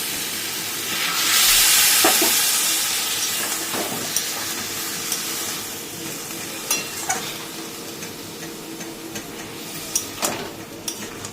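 Potato and taro curry sautéed in a pan with water added bit by bit, a steady close sizzle and hiss with a steamy burst early on and scattered clinks of a spoon stirring against the pan.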